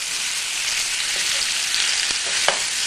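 Lamb pieces sear in a hot pan over high heat for a curry, giving a steady, close, even sizzle with a few brief clicks near the end and no voices.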